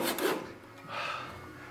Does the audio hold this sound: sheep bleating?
no